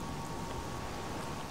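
Steady, dense rain falls in the STALKER New Arsenal 5.1 mod, a continuous even hiss of drops on surfaces with no breaks and no voices.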